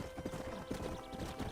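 Rapid hoofbeats of a horse in the video game Red Dead Redemption clip-clop in a quick galloping rhythm, fairly faint, with a brief whinny mixed in.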